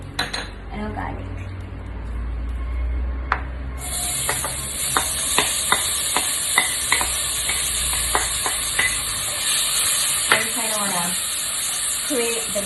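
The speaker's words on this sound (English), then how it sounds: "And then we're gonna throw in our onion and our garlic." Onion and garlic hit hot oil in a pot, setting off a bright, continuous sizzle while a metal utensil scrapes and clinks repeatedly against the pot; a voice talks briefly near the start.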